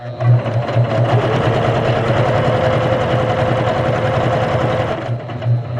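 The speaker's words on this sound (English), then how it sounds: "let's test out that zigzag stitch with the stitch length and stitch width maxed out" A Juki HZL-K85 beginner sewing machine stitching a zigzag at maximum stitch length and width, a loud, steady, close mechanical whir with a rapid rhythmic beat, running for about five seconds.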